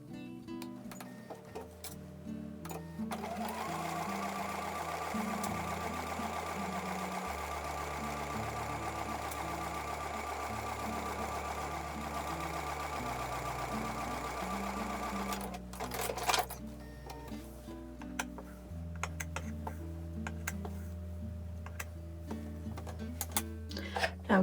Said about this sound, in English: So I'm going to take those back over to the sewing machine.